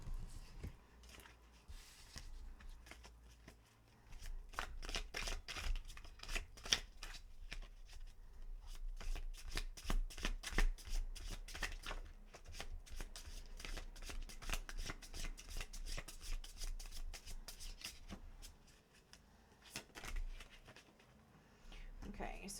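Tarot cards are shuffled in a steady stream of soft riffling, flicking and slapping over about twenty seconds, close and fairly quiet with a low background hum.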